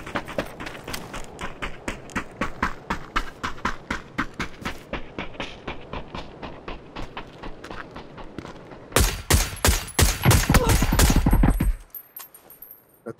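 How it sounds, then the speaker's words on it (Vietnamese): Gunfire in the battle-royale game PUBG: a long stream of rapid automatic shots, then a louder, denser burst near the end before it cuts off. "tụi kia nó bắn cái súng gì mà ghê vậy"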